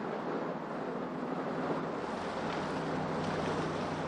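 A boat's engine drones steadily on open water during a marine boarding, with constant wind and water wash and a low even hum throughout, no voices.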